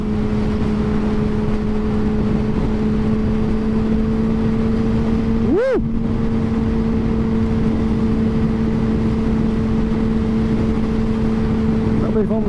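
A Yamaha FZ6 600 motorcycle rides along with a steady, loud engine drone holding a constant pitch, one brief rev swell midway, and heavy wind rush throughout.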